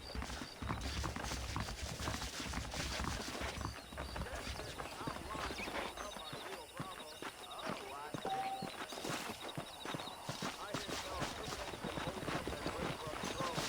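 Steady hoof clip-clops of horses walking in Red Dead Redemption, continuous and moderately close, with a busy background of game ambience and mechanical noise.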